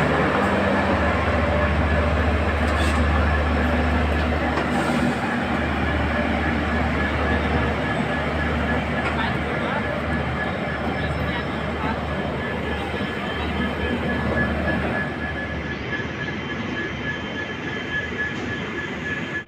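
Train with LHB coaches rolling past Dinhata railway station, a long steady rumble with a faint high tone, loud throughout and easing toward the end.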